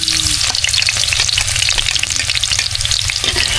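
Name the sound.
garlic frying in cooking oil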